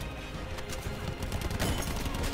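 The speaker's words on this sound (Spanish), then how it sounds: "lo estoy friendo a balazos" Dense bursts of rapid video game gunfire in Call of Duty Blackout crackle continuously, a steady barrage of overlapping shots at moderate volume with no pauses.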